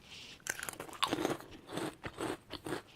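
Crunching bites into large shrimp-flavored chips, a Korean convenience store snack, with a series of close, crisp crackling chews in an irregular rhythm.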